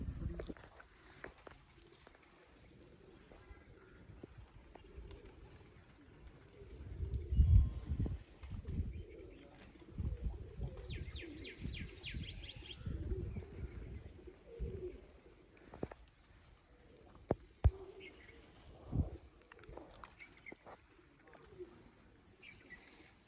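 Pigeons on a city rooftop during a pigeon-flying contest, with soft cooing, footsteps and wing sounds close by, and bursts of nearby movement amid faint background voices.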